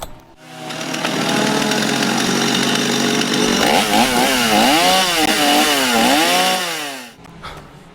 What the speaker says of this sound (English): these guys here behind me are incredible artists, very skilled with this chainsaw